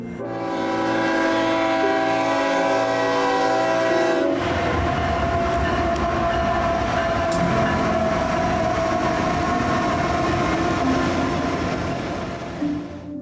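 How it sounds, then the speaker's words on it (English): A train horn blares with several sustained tones, then a long westbound BNSF vehicle freight train hauled by two GE Evolution locomotives rumbles steadily past with rolling wheel noise and faint clanking, close and loud. "my first train there would come by, that being a westbound vehicle train with 2 GEVOs"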